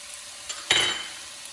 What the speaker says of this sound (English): So at the very end here, I'm just gonna add just a little bit of soy sauce, just for color.